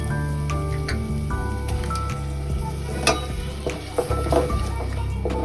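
Tomato puree goes into softened onions for pav bhaji and sizzles in a hot pan, a loud continuous frying hiss with occasional clinks of the utensil against the pan. Sustained tones run underneath and no one speaks.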